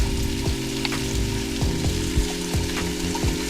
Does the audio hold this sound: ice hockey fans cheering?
no